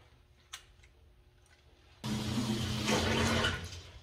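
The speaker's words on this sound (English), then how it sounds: "after 20 minutes of draining the water from the system." Water rushing out of a boiler heating system as it drains, starting abruptly after a faint tick and quiet room tone, then a loud, steady gushing and hissing flow that eases slightly near the end.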